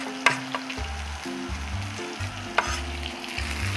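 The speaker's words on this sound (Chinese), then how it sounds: "當條魚咧都煎到九成熟啦" Fish pan-frying in hot oil for a Cantonese-style mandarin fish dish gives a steady close sizzle with a couple of sharp spatters, alongside low clattering kitchen noises and no talk.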